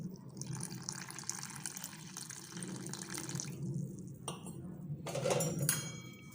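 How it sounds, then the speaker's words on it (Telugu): Water pours from a tap into a bowl of wheat flour dosa batter at a kitchen sink, a close steady splash and trickle with brief clinks of dishes and utensils, then a louder rush near the end. "ఇప్పుడు తగినన్ని వాటర్ యాడ్ చేయాలి."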